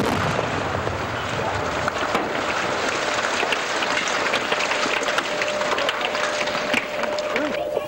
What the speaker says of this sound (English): Not only did the tower not fall, but the explosion rocked a 3-block area